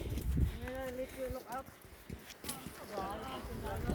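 Horses walking along a hillside trail toward a valley lookout, hooves clip-clopping at a steady pace beneath lively nearby talk and excited voices.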